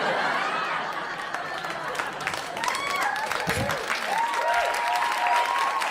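A comedy club audience claps and laughs after a stand-up joke, scattered hand claps over crowd laughter and chatter, with whoops and voices rising through the crowd noise.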